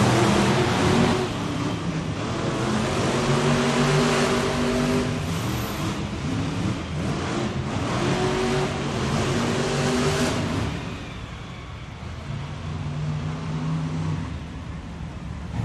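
Monster Jam trucks rev and race in an indoor arena event, their engines blaring loud and close with rising and falling bursts before dropping back to a lower, steadier rumble near the end.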